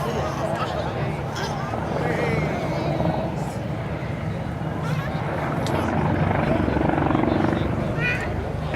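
An Army Air Corps Lynx helicopter performing a backflip display at the Bournemouth Air Festival, loud steady rotor thrum and engine whine with crowd babble and a commentator talking over it.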